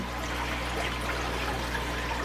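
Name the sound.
water running over a tea strainer to wet it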